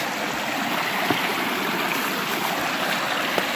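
River water flows steadily and close by, a continuous broadband rush with no pauses, heard while walking along the bank while scouting a deer and bear hunting spot in the woods; no one speaks.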